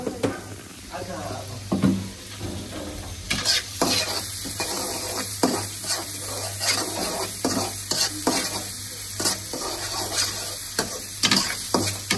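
Onions already fried in a pan with flour just added, a loud continuous sizzle broken by frequent sharp scraping and stirring strokes of a spoon against the pan, close up and without talk.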